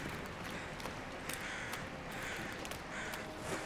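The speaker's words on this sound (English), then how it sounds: "there are crows" Crows caw in the survival video game The Long Dark, with repeated harsh calls set fairly far back in a steady wash of wind noise.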